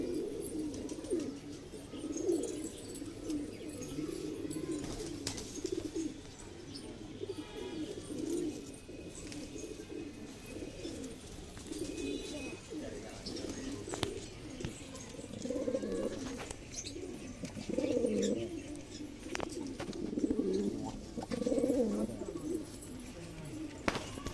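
Soft, low high-flyer pigeon coos repeat steadily in a busy, murmuring space, with scattered chirps and faint rustling; no clear speech.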